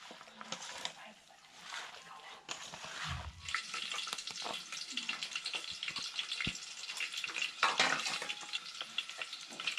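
Oil crackles and sizzles in a pot over a home fire as onion and garlic are readied for tempering with kokum for a wild mushroom dish, with stirring scrapes and clatter near and quiet, and a voice speaking briefly.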